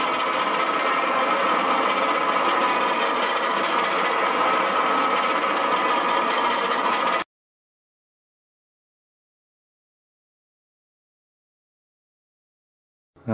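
An electric winch motor on a snow blower chute control runs with a steady, loud whine for about seven seconds and then stops abruptly, leaving silence until a brief sound at the very end.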